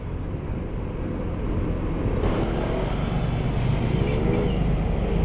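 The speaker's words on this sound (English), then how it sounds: "we are in between many motorcycles" Several motorcycles ride close together in traffic, picked up by a mic inside a rider's helmet: a steady, loud wind-buffeted engine roar that swells slightly over a few seconds.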